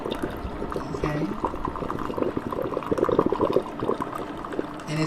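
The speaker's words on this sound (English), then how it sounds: "this is how the coffee is made, as it drips from the coffee maker" A coffee maker brews and drips coffee with a bubbling, gurgling liquid sound, steady close-up burbling and small pops rising and falling throughout, no one speaking.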